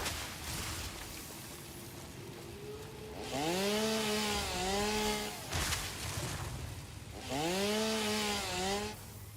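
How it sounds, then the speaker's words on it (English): A chainsaw cuts wood in Satisfactory, with two loud bursts of revving engine whine rising and falling over a lower idling drone, and no talk. "Definitely shouldn't run with a chainsaw."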